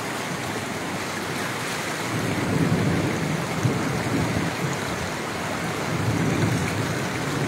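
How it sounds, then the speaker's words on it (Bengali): Heavy rain falling in Chittagong, Bangladesh, a steady dense wash of hiss that swells slightly in places, with no voices. "তাই বৃষ্টিটা কমে আসছে,"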